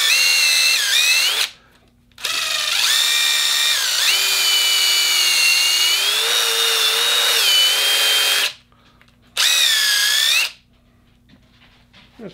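Rusty sockets are scoured with a Scotch-Brite pad on a power tool, giving loud, whining motor runs whose pitch dips and shifts under load, broken by short silent pauses.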